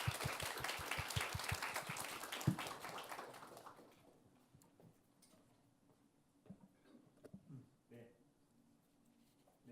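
Audience applause for a battery research presenter at a corporate job talk, a short burst of clapping that dies away after a few seconds, leaving a quiet room with faint shuffling and small knocks.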